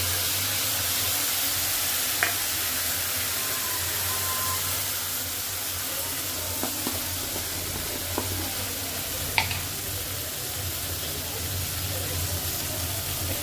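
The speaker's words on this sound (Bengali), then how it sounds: "আমি এই যে মশলাটা করেছিলাম সর্ষে পোস্তর কাঁচা লঙ্কা আর কাজু বাদাম এইটা একটু তেলের উপর দিয়ে দেবো" A paste of mustard, poppy seed, green chili and cashew sizzles in hot oil with a steady close hiss, broken by a few soft clinks of stirring.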